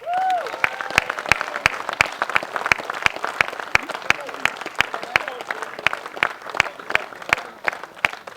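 A round of applause for the runner-up at a match fishing final, with steady, rhythmic claps and a few voices calling out at the start.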